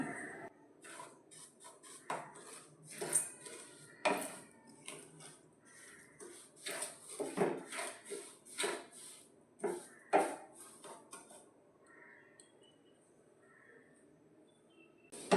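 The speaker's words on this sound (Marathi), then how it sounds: "रवा दोन ते तीन मिनटं तुपामध्ये चांगला भाजून घ्यायचा" Semolina roasting in ghee in a pan while being stirred for a sheera, with irregular scraping and clinking of a spoon against the pan in short bursts, fairly close, with no voices.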